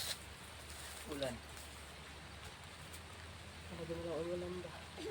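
Steady rain patters and hisses in the background while voices speak briefly now and then.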